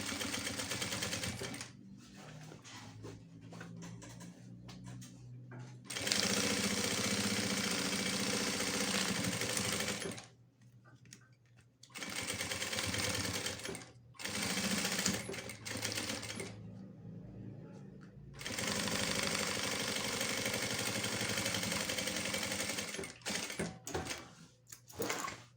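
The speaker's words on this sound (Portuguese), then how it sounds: "Você coloca e faz uma costurinha de segurança." A sewing machine stitches a lining seam in bursts, a close, loud rapid mechanical whir that runs for several seconds, stops briefly, then starts again across the clip.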